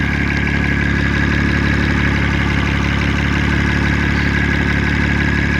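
A car engine idles steadily and loudly at close range, a constant low rumble with a faint ticking layered on top.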